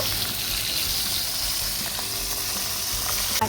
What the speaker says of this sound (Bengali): উল্টে পাল্টে লাল লাল করে মাছগুলো ভেজে নেব